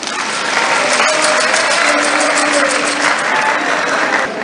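A large audience at a Guinean national event applauds the head of state, President Mamadi Doumbouya, with steady, loud clapping sustained throughout, dense and even with no pauses.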